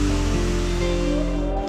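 A garden watering system sprays water in a continuous, loud, even hiss for under two seconds, with no voices.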